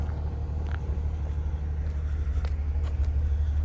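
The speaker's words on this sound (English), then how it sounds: "One of our trucks had just got in with a load of mulch" Low rumbling engine of a truck arriving with a load of premium mulch, a steady idling drone throughout with faint clanks and knocks above it, no talking.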